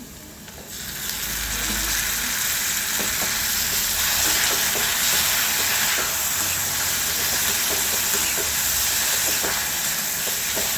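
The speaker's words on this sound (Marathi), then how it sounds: "छान परतून घ्यायचं दोन तीन मिनटं" Tomatoes and onion sauté in a pan for spicy kanda tomato chutney, giving a loud, steady sizzle and hiss that runs without a break from start to finish.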